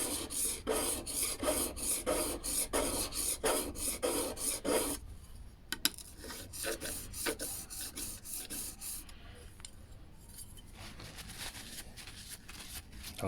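A hand plane blade, a No. 6, being rubbed back and forth on a DMT DuoSharp diamond whetstone to clear off crud, steady rasping strokes close up, then slower, quieter scraping with a few clicks.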